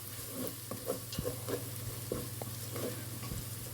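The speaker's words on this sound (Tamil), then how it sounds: "இஞ்சி பூண்டு பேஸ்ட்டோட ரா ஸ்மெல் போகிற வரைக்கும் நல்லா வதக்கி விட்டுக்கோங்க" Onion and ginger garlic paste being sautéed for chickpea biryani, with a soft continuous sizzle under repeated spoon scrapes against the pan and a low steady hum behind, fairly quiet and with no speech.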